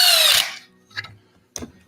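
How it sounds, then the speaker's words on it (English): A power drill bores a pilot hole in wood for a screw while a sandpaper holder is built, making a loud whirring burst at the start, then two short, fainter bumps and clicks as the tool is handled. "Just make sure you drill the appropriate hole for them."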